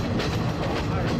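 A train rolls through the Ella tea plantations in Sri Lanka, giving a loud, steady rumble with rhythmic clatter from the carriages and no talking over it.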